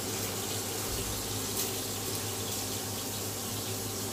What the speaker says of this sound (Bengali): আর এখন একেবারে হাত ধোয়া একটু পানি দিয়ে দেবো